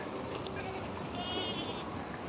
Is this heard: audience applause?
no